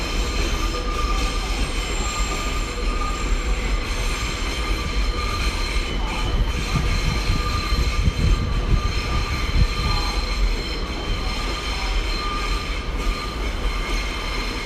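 A train rolls through Paris Gare de l'Est at rush hour, a loud continuous rumble of wheels on rails with metallic squeal and ringing tones, close and steady throughout, no voices.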